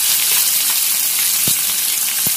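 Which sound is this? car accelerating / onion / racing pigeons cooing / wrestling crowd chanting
onion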